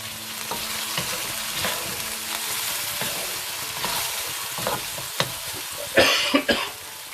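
Tomato passata and yogurt simmering in a pan for chicken bhuna, a soft continuous sizzle with occasional spoon taps, then a brief cough near the end.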